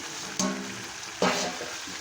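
Washed mutton drops into hot oil and spice paste for a homestyle red mutton curry, setting off two sharp bursts of sizzling over a softer, continuous background fry.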